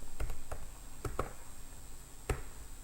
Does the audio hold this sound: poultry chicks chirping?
no